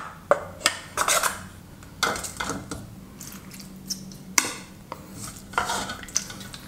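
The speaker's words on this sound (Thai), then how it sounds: "เราก็จะตักน้ำ ให้เพียงพอซดในถ้วยเรานะครับ" Thai hot and sour beef shank soup with roasted chili is ladled into a bowl, with close, irregular clinks and scrapes of a metal ladle against pot and dish, sparse and fairly quiet.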